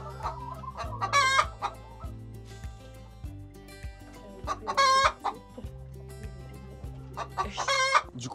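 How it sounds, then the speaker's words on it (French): Chickens in a henhouse on a Martinique farm cluck steadily while a rooster crows loudly three times at regular intervals, close by. "nous sommes arrivés au poulailler pour récupérer des œufs tout frais"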